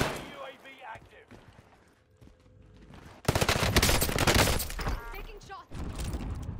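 Dense bursts of automatic gunfire crack loudly in a Warzone match on Rebirth Island, rapid overlapping shots sustained after a quieter stretch, with game voice lines and talk underneath.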